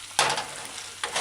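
Steak and vegetables stir-frying in a pan: a bright hiss of sizzling that swells sharply twice, as if food is tossed or stirred, close and loud, no talking.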